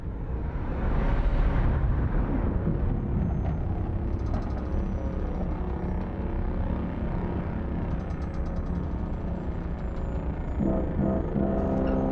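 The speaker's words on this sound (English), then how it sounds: "I like the little like foghorn thing." A deep, foghorn-like tone from the Elite: Dangerous space game, rising from a dense, loud rumble of engine-like drone that holds steady for the whole stretch with no voices.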